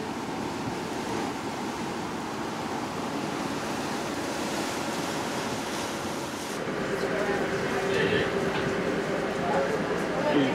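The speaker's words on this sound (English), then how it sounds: "Here's the beach on Aruba." Surf washing onto the beach on Aruba, a steady broad roar with gusty wind noise across the microphone that builds louder in the final few seconds.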